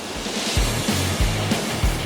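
Big ocean surf at the Woro surf spot in southern Bima, breaking about 200 meters offshore; low rumbling swells roll in at a steady rhythm, with several heavy thuds under a constant wash of noise.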